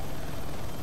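Steady, dense helicopter rotor and engine drone from the video game Joint Task Force, continuous and evenly loud throughout the short moment with no breaks.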